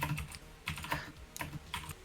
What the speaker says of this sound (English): Oh my lord, how loud is your keyboard?